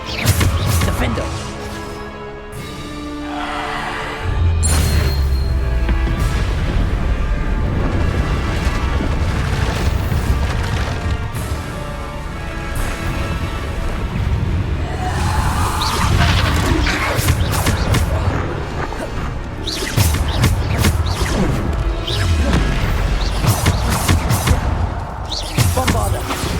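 Bombarda spell blasts in Hogwarts Legacy gameplay: repeated booming explosions and crashing impacts that come in bursts over a busy game soundtrack, loud and close.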